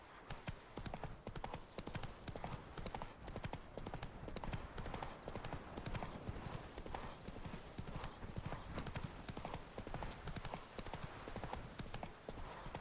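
Horse hooves clip-clop in a quick, steady rhythm across The Witcher 3, close and constant, with occasional faint whinnies under the game's ambient backdrop.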